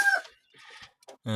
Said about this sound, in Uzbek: Tochkali temniy pux tovuqlarimiz.